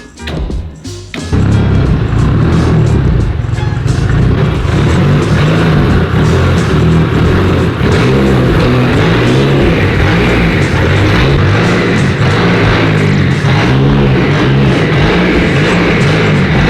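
A car drives slowly up the runways of a home garage lift, its engine giving a steady, loud rumble throughout after a brief quieter start, with no voices.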